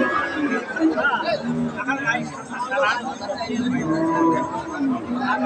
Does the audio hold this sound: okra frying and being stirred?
no